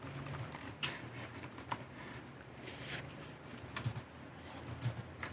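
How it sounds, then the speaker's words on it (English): Keys tapped on a computer keyboard at a Photoshop workstation, a quiet scattered run of soft clicks with a few sharper strokes, close up and alone. "I'm just going to click and start typing."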